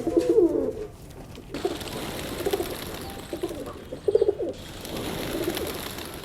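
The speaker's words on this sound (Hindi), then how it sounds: "यहाँ रोजाना कबूतरों की चहचहाहट और फरफराहट से फिजा गूंजती है" Pigeons at a pigeon tower give repeated low, throaty coos in short bursts over a constant outdoor background, with a few rustling flaps between calls and no talking.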